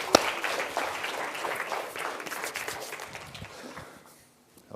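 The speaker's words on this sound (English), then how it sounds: "Let's give them a little round of applause." An audience at a science-of-colour lecture gives a short round of applause, a sharp opening clap swelling into steady crowd clapping that fades out near the end.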